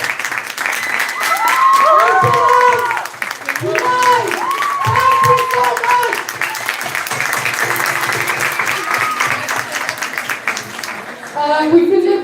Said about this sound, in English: I want an applause for all of them